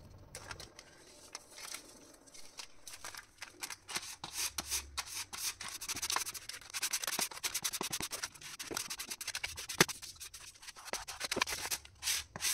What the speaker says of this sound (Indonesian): kita rapikan, kemudian kita padatkan dulu adonan yang kedua ini agar lebih merekat